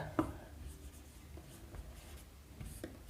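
Pen writing an answer to a trigonometry problem on paper, a soft scratchy rubbing that is faint and close, with a small tap at the start.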